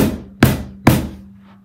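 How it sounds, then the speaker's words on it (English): Cajon with internal snares struck low in the middle, giving a deep kick-drum-like boom: two solid hits about half a second apart, each with a short buzzing tail, close and clear with no talking. "if you hit it down in the middle, you get a more boom sound"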